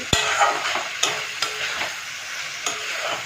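Prawn bhapa with green chilli is stirred in a pan, with a scraping spoon making a few distinct clacks over a soft, steady sizzle.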